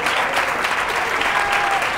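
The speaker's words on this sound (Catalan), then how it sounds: "Vinga, aplaudiment, aplaudiment." Lively audience applause for school students on a televised quiz show, a dense, even burst of many hands clapping throughout, loud and close.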